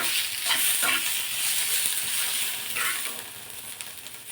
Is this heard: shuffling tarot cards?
no